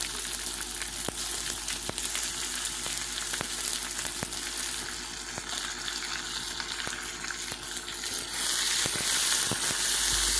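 Chopped onions go into hot oil with fried ginger and garlic for an egg curry, giving a continuous close sizzle with scattered sharp ticks and spatters that grows a little louder near the end.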